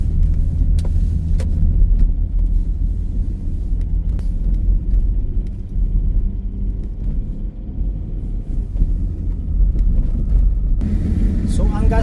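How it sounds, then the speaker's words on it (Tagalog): A truck rolls past on a road, a heavy low rumble filling the whole stretch with steady engine drone and a brief swell near the end. "may truck na dumaan"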